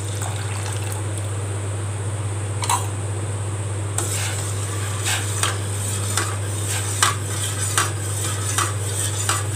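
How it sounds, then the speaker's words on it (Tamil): Cornflour mixture being stirred in a cooking pot for homemade lemon lolly ice cream, with light repeated scraping and clinks of a spoon against the pot over a steady low hum, close and moderately quiet. "நல்லா மிக்ஸ் பண்ணி விட்டுக்கணும், கட்டி விழுந்துடக்கூடாது"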